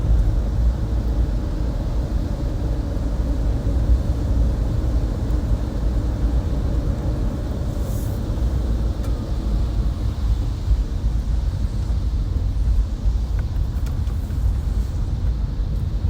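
A car driving on a road in California rain, heard from inside as a steady, loud rumble of engine and tires with road noise throughout and no talking.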